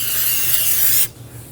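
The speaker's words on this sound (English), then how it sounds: "We're going to use brake parts cleaner and a clean rag." A steady hiss of brake parts cleaner sprayed onto the face of a front brake rotor on a 2007-2011 Toyota Camry carries on for about a second, close and loud, then cuts off to quiet.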